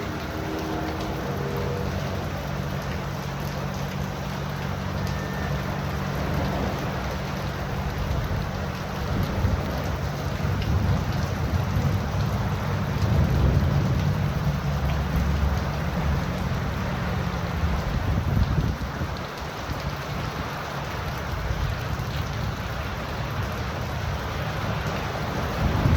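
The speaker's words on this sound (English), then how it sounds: "I mean, it is dumping rain." Heavy rain pours down in a thunderstorm, a dense, continuous roar with deep thunder rumbling underneath, swelling in the middle. There is no speech.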